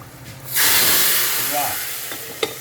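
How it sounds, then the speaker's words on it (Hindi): A sudden loud sizzle bursts up as tempering spices hit hot oil, then settles into a steady crackling hiss with a few small pops. "इसको हम तड़का देंगे।"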